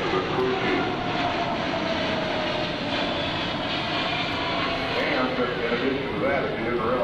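Large military transport airplane flying at the AirPower Over Hampton Roads air show, a steady broad engine roar throughout, with someone commentating over it.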